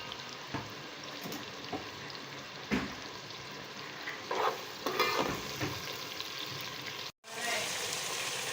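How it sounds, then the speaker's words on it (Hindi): Finely chopped onions sauté in a pan with a steady, moderate sizzle, broken by a few clattering stirs and scrapes, with a brief cut near the end. "अब साथ ही हम चॉप की हुई 3 प्याज जो बहुत बारीक हमने काट ली है डाल रहे हैं। इसे हम हल्का सा इसमें सौते कर लेंगे।"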